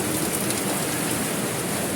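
Heavy rain drums steadily on a leaking roof, a dense, even hiss of countless drops hitting the surface with no pauses, loud and close, with no voices.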